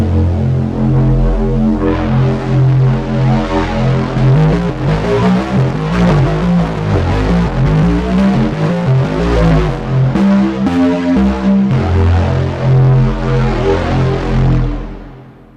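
Gritty, distorted Arturia MiniFreak synthesizer playing a sustained, throbbing bass-heavy line that shifts notes, then fades out at the end.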